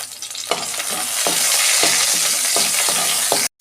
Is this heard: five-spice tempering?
yes